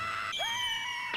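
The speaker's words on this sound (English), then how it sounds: "The cannonball screaming before it hits Brooke is funny" A cartoon cannonball screams in One Piece anime, a steady shrill whistling tone that dips and then holds high and loud for about a second before impact.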